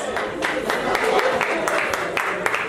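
A small crowd at a charity fundraising event gives a round of applause, with scattered, distinct claps in a loose rhythm and voices mixed in underneath.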